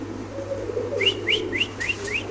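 Pigeons at a pigeon farm give five short, rising whistled calls in quick succession over a low background hum.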